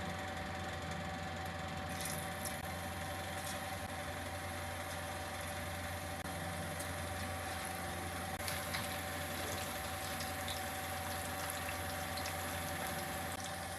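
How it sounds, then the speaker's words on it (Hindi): Pakoras frying in hot ghee in a kadhai give off a steady, even sizzle with a low background hum. The sound runs unbroken throughout at a modest level, with no talking. "अब कढ़ाई में हमने घी डालकर इसको गर्म कर लिया है। इसमें पकौड़े डालेंगे फ्राई करने के लिए।"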